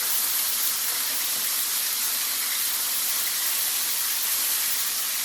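Pork chops fry in a hot pan, giving a loud, steady, close hiss of sizzling oil that holds unbroken throughout, with no voices.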